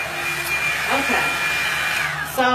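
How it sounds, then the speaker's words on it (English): A Revlon blow dryer brush runs steadily with a loud, even whirring hum throughout, its airflow roar shifting slightly in pitch near the end. "the blow dryer brush was a success"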